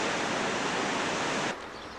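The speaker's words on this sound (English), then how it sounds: "The river is beautifully coming out of this snowfield. Just look at it. A nice little waterfall." Small waterfall spilling from a river fed by a snowfield in high mountains, a dense steady rush that drops abruptly softer near the end, with no voices.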